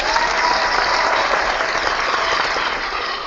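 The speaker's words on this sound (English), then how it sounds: "Let me go give him a clap right now." Steady dense clapping with no breaks, loud and continuous like a large crowd applauding, with no voices over it.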